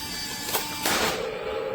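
A 1/18 scale M60 remote-control toy tank in desert camouflage fires its cannon, giving two short bursts of noise about a third of a second apart, the second louder and trailing off, close and indoors.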